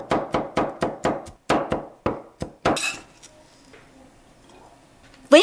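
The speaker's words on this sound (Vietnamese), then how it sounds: "Tiếp theo thì mình băm nhỏ khoảng 4 tép tỏi luôn nha các bạn." Close, crisp chopping as a knife minces about four garlic cloves on a board, around ten sharp, evenly spaced knocks with a short pause, then a scrape and near silence.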